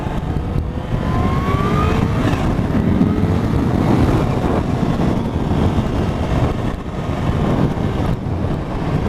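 Kawasaki H2 SX SE motorcycle engine droning steadily while riding in town, loud and continuous under heavy wind rush, with a faint rising whine partway through and no talking.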